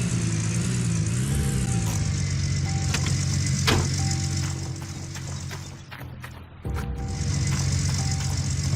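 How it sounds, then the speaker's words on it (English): A truck driving in Gold Rush: The Game, its engine a loud, steady mid-range drone that drops and dips briefly partway through, then returns to a constant roar. "We'll just drive the truck back over here and get the cables and put it into the back of it."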